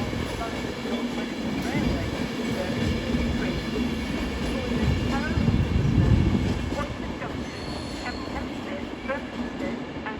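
A train at London Euston station on the West Coast Main Line, with a steady rumble of rail noise and faint wheel sounds filling the platform, slowly swelling louder midway; a public-address voice speaks over it.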